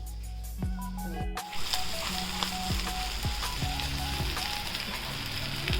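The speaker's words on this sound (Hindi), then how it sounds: "ये मैं तवे के ऊपर ही इनको फ्राई कर रही हूँ।" Shami kababs fry in hot mustard oil on a flat tawa, giving a steady close sizzle with a few metallic clinks and scrapes of a utensil against the pan.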